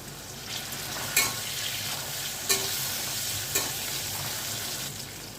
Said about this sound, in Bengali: আলুটাকে এক দু মিনিট মতন ভেজে নেওয়ার পরে